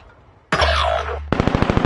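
Video game gunfire bursts in suddenly and loudly, first a dense sustained volley, then a rapid rhythmic string of sharp automatic shots, with no talk over it.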